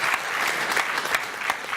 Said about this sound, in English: Round of applause for Rod.